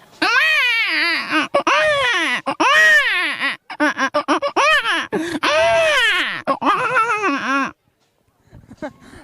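A voice imitates a small baby crying, with wavering wails and sobbing bursts in quick succession, loud and close, ending in a short pause and faint sounds.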